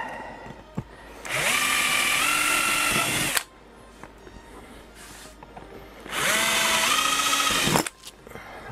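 A power drill boring into a motorcycle seat, two long steady whining runs with rising pitch at startup, separated by a quiet pause, close and loud.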